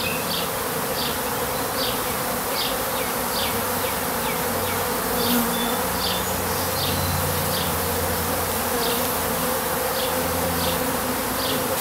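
Honeybees buzz continuously around an open top bar beehive, a dense close hum with individual bees zipping past, steady and loud with no talking.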